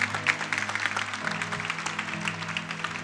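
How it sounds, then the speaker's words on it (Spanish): Applause from a church congregation during a service fills the space in a steady, dense wash, with a low sustained tone underneath throughout. "Les damos un aplauso."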